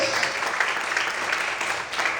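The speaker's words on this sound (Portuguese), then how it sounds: "Mais forte as palmas" A church congregation claps during a service, a sustained, full roar of many hands at steady volume, with no distinct voices over it.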